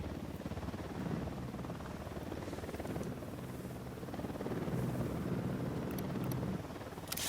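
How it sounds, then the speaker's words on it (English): A helicopter in the Ghost Recon Wildlands game drones steadily overhead for the whole stretch, a constant thrumming rotor roar that swells slightly midway, with no talk. "We got a chopper."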